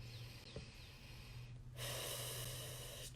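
Heavy breathing during a foam roller exercise for the inner thighs and calves, a close nasal snort-like inhale followed by a longer, louder sustained exhale.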